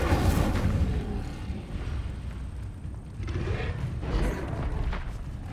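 A fire spell bursts out in the Hogwarts Legacy video game, a loud rumbling whoosh of flame with booming, crackling texture that swells and lingers over several seconds, no talking.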